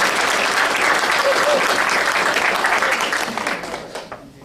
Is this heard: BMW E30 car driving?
no